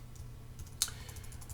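Soft keystrokes on a computer keyboard while entering spreadsheet data, a few light taps with one sharper click in the middle, close and quiet over a low steady hum, no voices.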